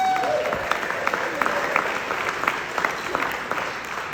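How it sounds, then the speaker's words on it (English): An audience at a music festival main stage claps steadily after a live performance, a dense wash of applause with some crowd noise, fairly close. "So a huge round of applause for that, please."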